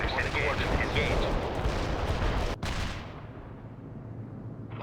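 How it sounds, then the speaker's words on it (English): Artillery barrage in the war strategy game World in Conflict, heavy rumbling blasts and gunfire rolling continuously and loud, then a sharp cut into a lower, muffled rumble that fades. "Yes, товарищ, commencing the barrage."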